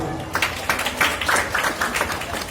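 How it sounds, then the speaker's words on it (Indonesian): Audience at a Safari Maulid gathering at a mosque breaks into a burst of clapping that swells and carries on for a couple of seconds, fairly loud and dense. "Tepuk tangan dulu coba."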